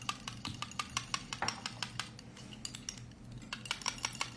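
A utensil stirring something in a container, rapid repeated clinks and scrapes in a steady rhythm, close and clear with no voices.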